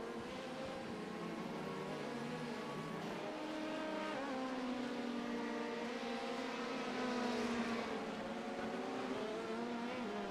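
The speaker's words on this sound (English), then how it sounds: "just hearing the cars going around" GT3 race cars lap Sebring in an online endurance racing video game, a continuous layered engine drone of several cars rising and falling as they pass, steady and moderately loud with no talking.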